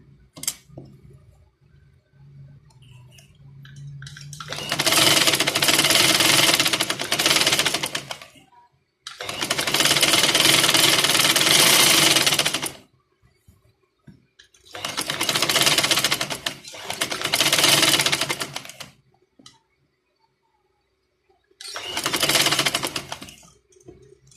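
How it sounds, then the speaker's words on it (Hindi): A sewing machine stitches box trouser fabric in several long, loud runs of rapid mechanical chatter, separated by quiet pauses with faint handling sounds. "हमने इधर से रख के सिलाई लगानी है"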